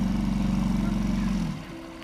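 A boat's engine chugs steadily on the River Avon near Tewkesbury, a close, rhythmic low throb that drops away and fades near the end, with no talking.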